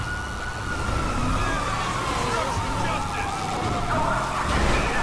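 Police car siren in the game GTA V, a steady wailing tone that slowly falls in pitch over several seconds, mixed with game noise and someone talking over it.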